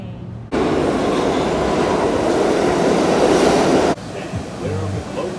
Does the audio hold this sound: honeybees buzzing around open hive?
no